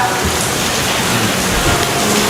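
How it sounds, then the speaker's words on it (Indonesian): Heavy rain pours steadily as a dense, loud, continuous hiss with no breaks, filling the whole moment on its own. "Hujan gede."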